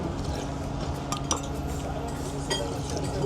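Cutlery stirs and mixes a spiced, salted dish in a pot, with soft scraping and a few light clinks against the sides, steady and close with a busy background.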